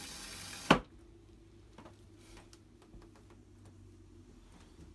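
Toilet in a 2008 Dutchmen 26B-DSL travel trailer flushing by pedal: a sharp loud clunk, then a faint low rush and trickle of water draining for several seconds.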